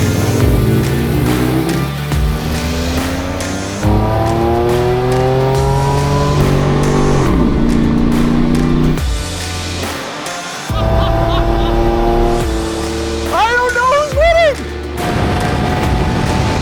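Off-road build vehicles race with loud engines revving and rising in pitch through the gears, plus bursts of acceleration and tire noise, up close, with voices talking over the engines.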